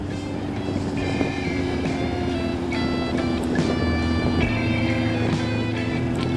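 A motorcycle cruising along winding mountain roads in the Vercors, its engine a steady mid-pitched drone with gear and pitch shifts, mixed with constant wind rush over the microphone.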